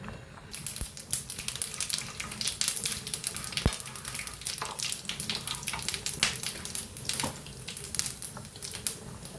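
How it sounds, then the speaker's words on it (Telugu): Whole garam masala spices fry in hot oil for an egg curry, giving a steady close crackling sizzle with scattered sharp pops and occasional stirring clinks, and no speech. "చూడండి, నూనె బాగా కాగిందనమాట. అదా అందులోకి ఈ గరం మసాలా అన్నీ వేసుకుందామండి."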